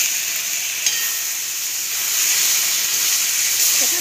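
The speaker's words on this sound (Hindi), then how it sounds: "भून दे रहे हैं मसाला" Spice masala with banana frying in a pan for a curry, a loud, continuous close sizzle and steamy hiss with a faint stir tap, no voices.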